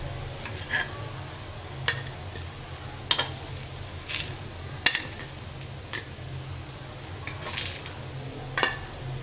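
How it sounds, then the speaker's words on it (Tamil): Cucumber kuzhi paniyaram are lifted out of a hot paniyaram pan while oil sizzles steadily underneath. Sharp scraping clicks and taps of the utensil against the metal wells land at irregular intervals. "இப்போ நான் குழி பணியாரத்தை எடுத்துடுறேன்."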